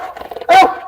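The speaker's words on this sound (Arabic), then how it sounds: "يا جماعه الكلاب الماستيف" Large mastiff dogs bark loudly and close, a deep single bark following a run of lower grumbling growls.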